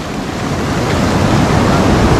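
Strong ocean waves pounding a beach at Kenting Baishawan in Taiwan, a loud, continuous roar of surf up close, with wind buffeting the microphone and no voices.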